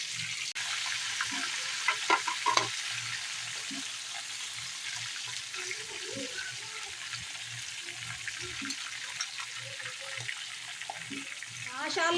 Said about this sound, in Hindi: तरह से फ्राई हो रहे हैं हमारे ये बैंगन